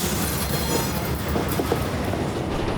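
CSX freight train B311 rolling into a Bone Valley fertilizer plant, a close, continuous low rumble of railcars with rhythmic wheel clatter and faint squealing, steady throughout.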